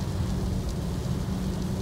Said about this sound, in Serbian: ovdje, evo, kiša je počela